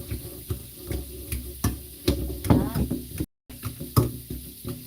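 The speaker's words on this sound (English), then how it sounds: "so I have my little masher here" A hand masher works through potatoes in a pot for shepherd's pie, giving repeated soft knocks and squelchy thuds at an uneven rhythm, close by, with a brief silent gap midway and faint water-like sounds.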